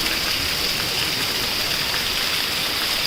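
Steady, dense rain pours down continuously, a loud unbroken hiss with no voices heard.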